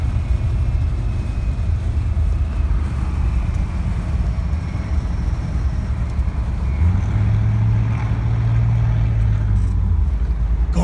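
Car number 55 laps Texas Motor Speedway at the Goodguys Spring Nationals, heard from inside as a loud, continuous engine drone with heavy rumble and road roar near 100 mph, its pitch rising and falling briefly partway through.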